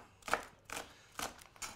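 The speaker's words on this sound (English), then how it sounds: "So again, just dicing those up." A knife dices spring onions on a cutting board in four crisp, separate chops spaced about half a second apart, close and fairly quiet.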